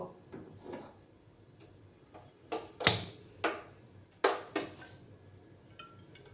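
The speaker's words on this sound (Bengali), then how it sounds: "প্রথমে আমি গ্যাসটা জ্বালিয়ে দিব।" Gas stove burner being lit in a home kitchen, a series of sharp clicks and snaps of the igniter, several distinct bursts close by in otherwise quiet surroundings.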